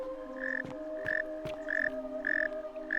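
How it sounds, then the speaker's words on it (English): Night ambience in the video game The Forgotten City: steady insect-like chirping hums beneath repeated bright pulses, roughly every half second, with a few soft clicks, moderately loud and with no talk. "so you said it does sound like crickets, the universal sign of nighttime"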